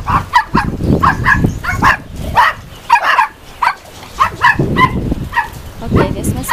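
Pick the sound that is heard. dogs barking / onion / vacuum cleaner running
dogs barking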